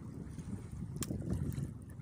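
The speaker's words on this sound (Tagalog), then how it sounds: "Mahangin pa, habagat." Gusty monsoon wind out at sea buffets the microphone in a steady low rumble, with a sharp knock partway through and no voices.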